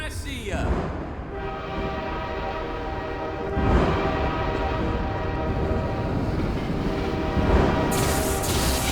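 A train rumbling along the tracks in Half-Life 2: Episode 1, a steady loud roar with metallic rattling and a brief high horn-like burst near the end, continuing throughout.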